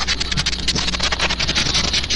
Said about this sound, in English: I'm gonna use sandpaper on my mic